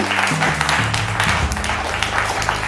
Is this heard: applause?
yes